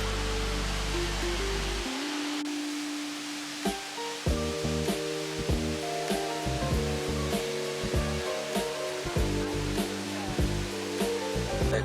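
A waterfall in Bali gives a steady, loud broadband rush that continues throughout; after the first couple of seconds, music with distinct tones plays over it.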